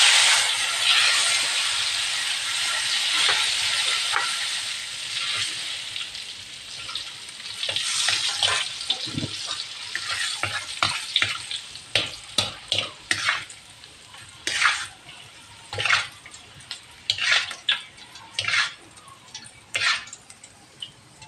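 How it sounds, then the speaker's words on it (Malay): Petai beans frying in a pan with oil, a steady hiss and sizzle that thins into irregular sharp crackles and pops as they are stirred, close and fairly loud, with no talking. "Okey, ni petai. Kita goreng sekejap."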